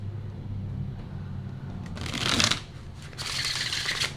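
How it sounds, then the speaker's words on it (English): Tarot cards being shuffled during a pick-a-card reading, with a quiet rustle that swells into two louder riffling bursts near the end, heard alone without talk. "2 shuffles for group 5 is what I'm hearing, and 1 cut."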